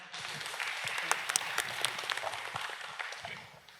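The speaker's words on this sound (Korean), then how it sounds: "박수로 맞이하겠습니다" A crowd applauding steadily, a dense wash of many hands clapping at once, sustained for several seconds before gradually thinning toward the end.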